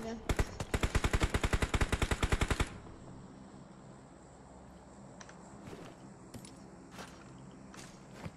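Rapid automatic gunfire in the mobile battle-royale game PUBG Mobile, a loud burst of about twenty evenly spaced shots lasting over two seconds, followed by quieter footsteps and scattered clicks.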